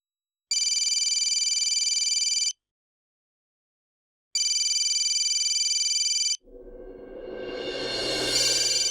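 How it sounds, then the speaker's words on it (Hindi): A phone rings in two long bursts of bright, buzzing electronic tone with a pause between, then the scene shifts to a rising, noisy background. "राम सर का फोन है।"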